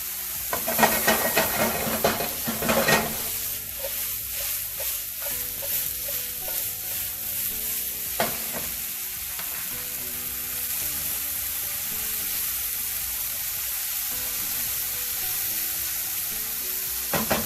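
Chopped vegetables sizzle and crackle in a hot pan while cooking for an American-style omelet, a steady frying hiss with occasional stirring scrapes and clatter early on, close and continuous with no talk.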